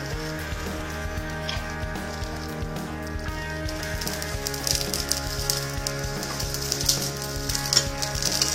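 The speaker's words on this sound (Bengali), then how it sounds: "এইভাবে আমি সমস্ত বেড়ে রাখা পরোটাগুলোকে ভেজে নেব।" Parathas fry in hot oil in a pan, a close, continuous sizzle with scattered crackles and pops that grows slightly livelier toward the end, heard on its own without talk.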